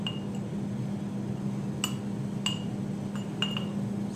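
Light glassy clinks and taps as cement is pressed down inside a drinking glass during a water-resistance test demo, a few sparse sharp ticks over a steady low background hum.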